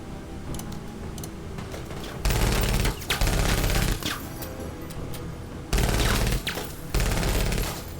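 Loud bursts of rapid automatic gunfire arrive in several separate volleys, broken by quieter gaps with scattered sharp cracks.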